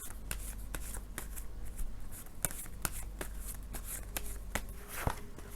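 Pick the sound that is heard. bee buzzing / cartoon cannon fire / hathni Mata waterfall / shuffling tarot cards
shuffling tarot cards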